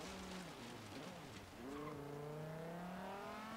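A Lamborghini in the Forza Horizon 3 racing game revs hard, engine pitch climbing through a gear change and then rising steadily in a smooth sustained wail, loud and continuous with no talk.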